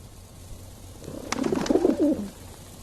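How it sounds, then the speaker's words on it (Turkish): Birds coo in the video game I Am Cat, a short burst of soft, near cooing and a few flutter-like taps over a low background hum, with no speech. "Kuşlar."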